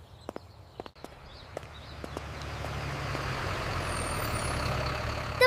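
A school bus pulls up on a first school day, a low engine rumble building steadily and growing louder as it nears, with a few sharp knocks and clicks early on.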